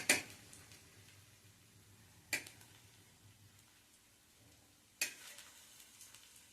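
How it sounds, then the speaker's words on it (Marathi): Slices of suran yam shallow fry in oil or ghee, a soft low sizzle running quietly throughout, broken by three sharp clicks of a utensil against the pan. "हे दोन्ही बाजूनी आपल्याला व्यवस्थित शॅलो फ्राय करायचे"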